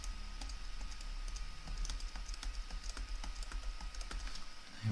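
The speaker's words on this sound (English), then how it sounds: "That was just using the cursor keys along." Cursor keys tapped on a computer keyboard while writing drum kit and percussion parts in music software, a run of light, quick, close clicks at an uneven pace with no talk.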